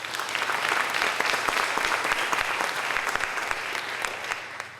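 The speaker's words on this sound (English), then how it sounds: "Let's give them another warm round of applause." An audience applauds the organizing committee at a congress in Los Angeles City Hall, warm, steady clapping from a large crowd that fades slightly toward the end.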